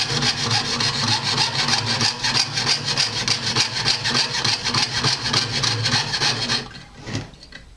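A jeweller's saw cuts at a goldsmith's bench with fast, even back-and-forth strokes, close and loud, that stop abruptly near the end.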